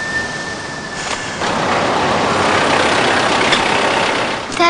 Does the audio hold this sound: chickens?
no